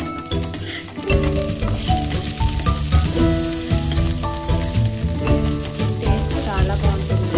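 Tempering spices frying in oil for ivy gourd chutney while being stirred, producing a dense, steady sizzle with scraping strokes, overlaid by sustained tonal music-like sounds throughout.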